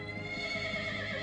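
A horse in a film neighs in a drawn-out, fairly faint whinny over a steady background.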